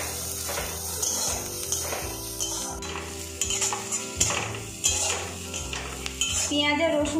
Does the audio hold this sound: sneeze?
no